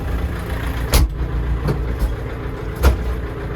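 A Kentavr 404 tractor with hydraulic steering idles with a steady low diesel rumble, broken by a few sharp hissing or clunking bursts, loud and close with no talking.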